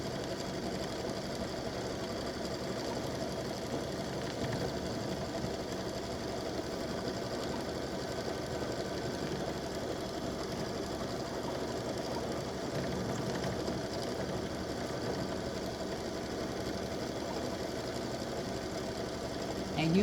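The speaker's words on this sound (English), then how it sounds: "I'm just going to stitch it in white" An embroidery machine stitches white thread onto a patriotic red, white and blue appliqué, a steady continuous rapid mechanical chatter held at even loudness throughout, close by.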